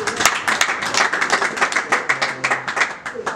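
A crowd at a worship gathering claps and applauds, dense rapid hand claps close and loud throughout, with voices mixed in underneath.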